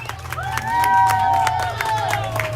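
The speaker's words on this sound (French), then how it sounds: "Comment on l'applaudit, Géraldo?" A crowd cheers and applauds Géraldo Trulès as he finishes and wins the Saint-Jo 10 km night race, with clapping and shouts building to a steady roar alongside whistles and a loud announcer talking over it.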